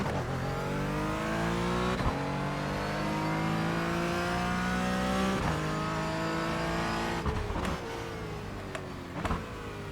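Race car engine in the iRacing sim racing game drones steadily at high revs, loud and continuous, with pitch rising and dipping through gear changes and brief shifts near the end.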